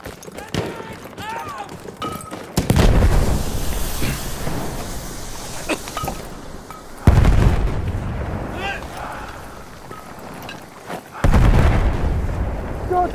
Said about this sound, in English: Grenade out! Watch your heads!